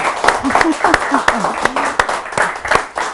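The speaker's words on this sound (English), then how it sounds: "So let's give a round of applause for Joanna, our first person." A studio audience claps at a cooking show, brisk close-up applause with sharp individual hand claps, mixed with people talking over it.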